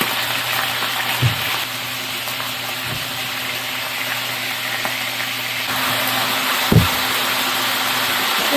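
Sea scallops and peas frying together in a pan, a continuous loud sizzle with a couple of brief clatters of utensil or pan, no voices.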